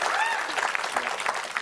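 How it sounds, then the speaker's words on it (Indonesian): A studio audience applauds during an Indonesian talk show segment about eyebrow drawing, a steady burst of clapping from a crowd with a voice faintly underneath. "boleh minta tepuk tangannya dong."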